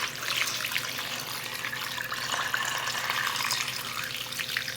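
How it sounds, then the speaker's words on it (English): Tap water runs steadily into a cooking pot being filled to the brim for slow-cooked soul food, a continuous close splashing rush with no talk. "let's get some water in here."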